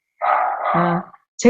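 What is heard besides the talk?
dog barking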